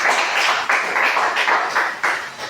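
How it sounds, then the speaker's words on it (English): Audience applause in a classroom teaching demonstration: a dense, steady wash of many hands clapping at close range, sustained through the full stretch with slight surges. "Give her a round of applause."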